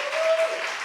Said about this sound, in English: Can we have a round of applause for our authors